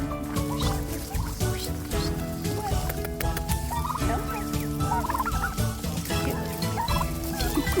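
Several young turkeys gobble and chatter continuously as a flock, their overlapping calls close and steady with no pauses throughout.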